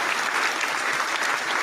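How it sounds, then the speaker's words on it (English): Applause from a seated audience forms a dense, steady wash of many clapping hands, fairly near and unbroken. "That's applause."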